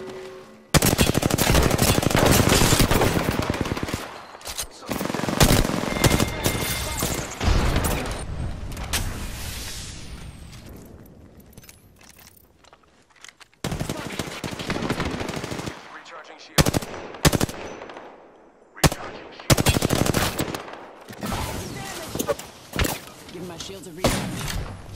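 Automatic gunfire from Apex Legends, loud sustained bursts and rapid volleys with brief gaps, interspersed with game sound effects and voice lines.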